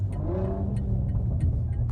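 A tuned, downpipe-equipped 500hp BMW M340i engine revs steadily up close, a rising whine over a deep, constant rumble, with faint sharp clicks now and then.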